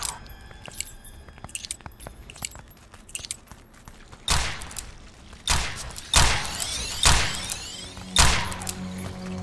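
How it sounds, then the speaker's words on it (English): Gunfire in the sci-fi shooter game From Space, heard as a series of sharp, loud, close bursts in the second half, each with a short decay, after a stretch of quieter clicks and clatter. "Did I hear somebody else shooting?"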